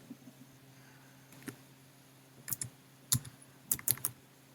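Sparse keystrokes on a computer keyboard as a username and password are entered, a few isolated clicks followed by small quick clusters, close but quiet over a faint room hum.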